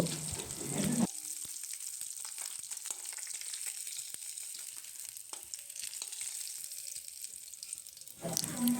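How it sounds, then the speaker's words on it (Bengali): Mustard oil sizzles steadily in a wok as ridge gourd and potato fry on low heat, a continuous crackling hiss with scattered pops, heard on its own after a brief noise at the start. "ওই কড়াইয়ে একটু সর্ষের তেল নিয়ে কেটে রাখা ঝিঙে আর আলুটা আমি হালকা আঁচে একটু লবণ আর হলুদ দিয়ে ভেজে নেব"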